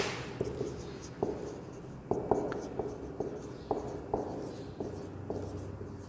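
A pen writes a date on paper for a job application letter, producing a quiet run of short scratchy strokes and taps in an irregular rhythm, close up. Faint breathy whispering sits underneath.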